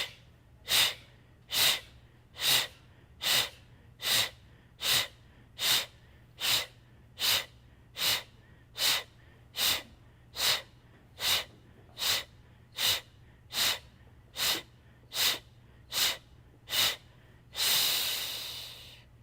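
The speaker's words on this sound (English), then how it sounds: "inhaling through the nose, pursing your lips for the exhales as we shoot them out with the belly" Sharp, forceful exhales pushed through pursed lips during a gentle yoga breathing drill, about twenty evenly spaced bursts close to the mic, ending with one longer release of breath.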